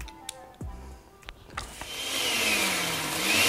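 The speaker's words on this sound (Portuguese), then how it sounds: "a sua mãe não vai ficar passando aspirador na casa na hora da sua aula" A household vacuum cleaner in a home: after a few scattered knocks, the motor starts up and swells into a loud, steady whirring roar with a rising whine.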